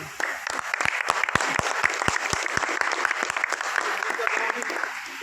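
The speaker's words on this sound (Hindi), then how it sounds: "जोरदार तालियों से" Loud, sustained applause fills a farewell ceremony for a transferring doctor, with many hands clapping steadily throughout and no clear speech over it.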